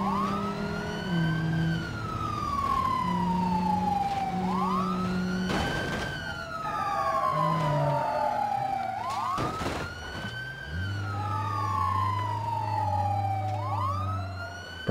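Police car siren in the video game BeamNG.drive wails in repeated rising and falling sweeps, loud and close, with a low engine drone running underneath and occasional thuds between the cycles.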